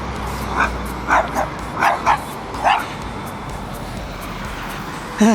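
A dog chasing a motorcycle rider barks repeatedly in short bursts at a moderate distance, with a few yips over steady background noise.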